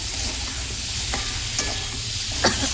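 Vegetables with turmeric and salt are mixed by hand in a pot for khichuri, a loud steady frying hiss with a few sharp scrapes and clicks of stirring.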